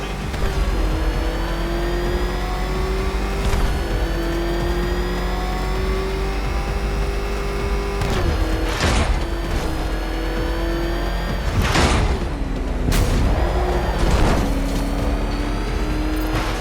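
Batmobile engine in Batman: Arkham Knight roars steadily and loud, pitch climbing and dropping as it accelerates, with sharp bursts and crashes breaking in near the end.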